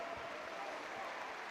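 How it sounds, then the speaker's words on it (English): Football crowd at Brighton & Hove Albion versus Worthing gives a faint, distant, steady round of applause as a player is substituted off. "Taraj, a warm round of applause from the blue and white half of the crowd down to our left"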